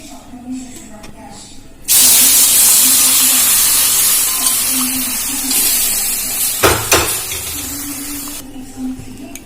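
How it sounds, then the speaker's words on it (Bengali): Milk hits hot fried semolina in a pan over low gas, bursting into a loud, broad hissing sizzle that starts suddenly and slowly fades over several seconds, with a voice heard faintly before it. "এবার আমি এর মধ্যে দিয়ে দেবো দুধ।"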